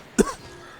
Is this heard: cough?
yes